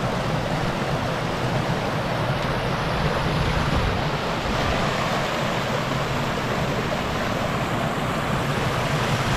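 A river flows with a loud, continuous rush of water, a dense, unbroken wash with no voices over it.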